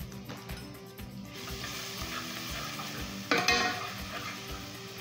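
Garlic frying in a pan, a soft, continuous sizzle with light scraping and stirring, plus a brief louder burst of crackle midway, fairly quiet and close without speech.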